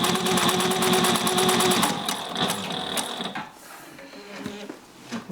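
A Juki 1541S industrial sewing machine stitches through 20 layers of Cordura with a fast, loud, rhythmic mechanical clatter for about two seconds, then slows to scattered quieter clicks.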